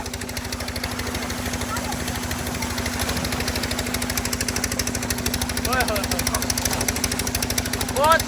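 A tubewell pump engine runs steadily in a village date palm orchard, its low, even chugging drone continuous throughout, with children's shouts and voices rising over it near the end.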